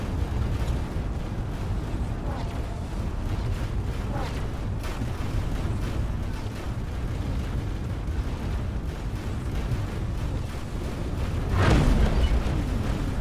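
Explosions as Xenon ships are blown apart in a space combat video game, a steady rumbling roar with several dull booms, the heaviest burst swelling late on.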